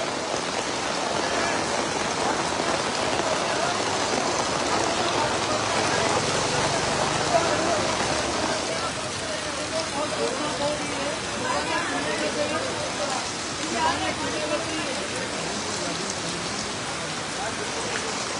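Heavy rain pours in Losal, a loud, continuous hiss of water hitting surfaces that stays steady from start to finish.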